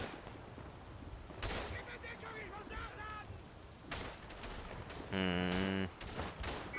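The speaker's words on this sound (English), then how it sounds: "This revolver does pack a nice meaty wallop if I can land my shots." Revolver shots ring out in the video game Verdun, a few sharp cracks spaced seconds apart among distant battle noise and a tonal in-game sound.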